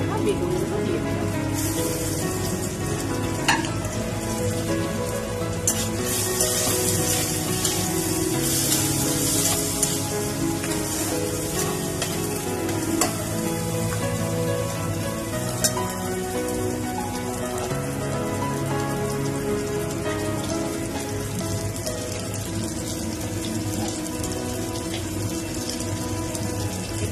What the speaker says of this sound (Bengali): এবার আমি কেটে রাখা বেগুনগুলো দিয়ে দিলাম